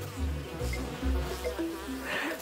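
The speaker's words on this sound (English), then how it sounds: "Other insects, including bees, are also attracted to the bait." Bees and other insects buzz continuously around a bait trap in Chiribiquete in the Colombian Amazon, a steady close hum that swells and fades slightly, with no talking.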